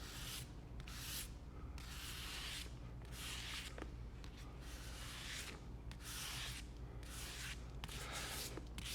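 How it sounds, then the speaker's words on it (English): Soft abrasive scuffing across the painted surface of a Harley helmet, a steady series of brushing back-and-forth strokes, close and quiet with no voices. "right now I'm just gonna do a really soft kind of scuff across there."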